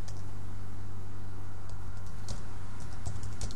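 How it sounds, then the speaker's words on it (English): Rapid typing on a computer keyboard while entering text into office proposal software, a continuous close patter of key clicks with a few louder strokes, over a steady low background hum and no talking. "If I click on the box again, I could type in the faux painted grills"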